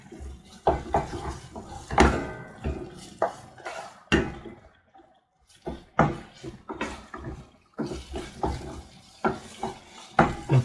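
Bacon and potato being mixed in a bowl, with repeated clinking and scraping of a utensil against the dish in an irregular rhythm, close and fairly loud, with a short quiet pause midway.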